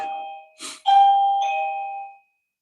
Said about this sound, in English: Y'all hear that bell ring?